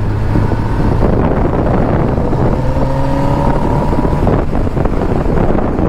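A Kawasaki ZX-10R sport motorcycle rides along a road. Its engine drones with rising and falling tones, partly buried under heavy, constant wind roar on the microphone.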